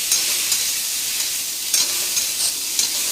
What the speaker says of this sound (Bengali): একটু নুন হলুদ দিয়ে পটলটা একটু ভালো করে ভেজে নেব